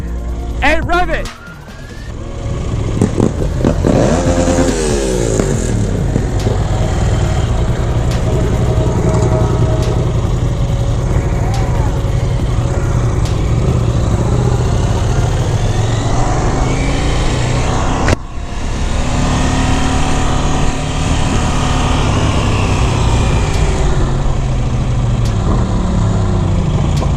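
A Yamaha R3 motorcycle with no exhaust fitted runs loud and raw close by, its engine revving and droning continuously, while people talk over it.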